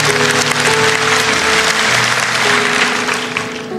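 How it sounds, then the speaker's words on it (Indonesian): A church congregation bursts into loud, dense applause during a sermon, sustained clapping with an organ-like tone beneath, tapering slightly at the end. "Kasih tepuk tangan untuk Tuhan."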